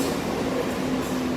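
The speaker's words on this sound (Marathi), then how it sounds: "ट्रेन पण आली" A suburban train pulls into Marine Drive station in Mumbai, a steady loud rumble of wheels and carriages filling the short stretch with no talk.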